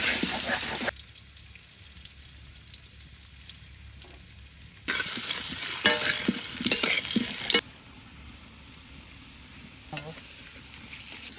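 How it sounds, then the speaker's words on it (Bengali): Potatoes fry in mustard oil in a wok over a village stove, a soft steady sizzle broken by louder bursts of stirring and scraping, with brief clinks and drips between. "ভালো করে ভেজে নেবো আলু"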